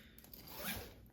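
Large, robust metal jacket zipper pulled in one quick, quiet ratcheting zip close by, brief and alone with no talk.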